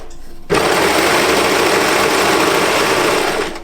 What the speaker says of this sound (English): So I'm just going to put everything together with the serger.